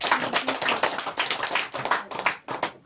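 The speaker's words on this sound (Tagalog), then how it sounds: "Palakpak na po sa Lord." A church congregation breaks into rhythmic applause for the Lord at a tithes and offerings service, dense sustained clapping for a few seconds with no talk over it.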